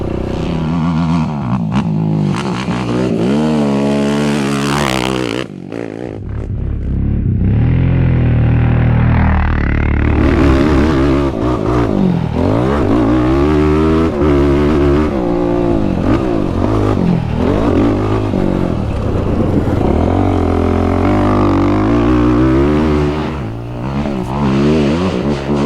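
Off-road vehicle fitted with Obor Advent tires runs along a straightaway of hard-packed dirt, its engine droning and revving loudly and steadily throughout, with a brief dip in the middle before pulling hard again.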